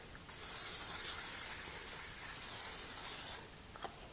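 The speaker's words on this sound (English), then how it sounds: "We're going to spray the bottom of the Crockpot with some nonstick cooking spray." Nonstick cooking spray hissing from a can into the bottom of a Crockpot slow cooker, one steady three-second burst, close and soft, with no talk.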